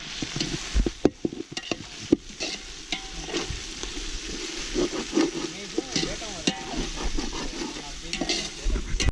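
Onions and tomatoes sautéing in a pot for chicken biryani cooked outdoors in a forest, a close crackling sizzle broken by sharp stirring clanks and scrapes of a ladle against the metal.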